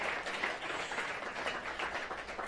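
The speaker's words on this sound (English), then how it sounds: "Give her another round of applause" An audience at a storytelling event applauds in a dense, steady wash of clapping that holds at an even level throughout, moderately distant with no talk on top.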